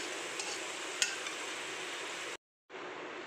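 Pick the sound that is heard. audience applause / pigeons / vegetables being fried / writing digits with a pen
vegetables being fried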